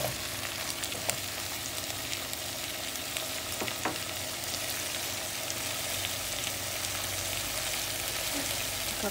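Snake gourd curry frying in a pan while being stirred, a steady close sizzle with occasional scraping taps of the spoon against the pan, continuous and without talking.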